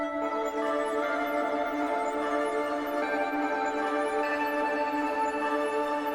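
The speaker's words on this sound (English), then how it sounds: "I've added the reverse ambience preset, which made the whole thing sound like this." A synth pattern with EQ, Portal processing and a reverse ambience preset forms a dense, washed layer of sustained tones with shimmering upper texture and slight swells, continuous and heard alone.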